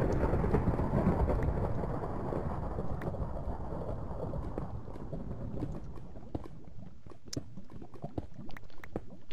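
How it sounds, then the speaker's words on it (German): Heavy rain pours down in a Minecraft thunderstorm with a deep rumble at the start, then thins into scattered patters and drips, with no talking. "Es gewittert gerade wie sonst was. Und regnet und schüttet und ist ganz schwarz draußen."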